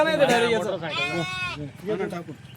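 Sheep bleat loudly and close by in several drawn-out, wavering cries that follow one another, with farm voices talking underneath.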